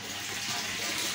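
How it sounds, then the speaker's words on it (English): Water pouring steadily back into the runoff tank of an indoor hydroponic lettuce system, a continuous close, even splashing rush with no pauses. "This is the runoff tank. All the water run back here."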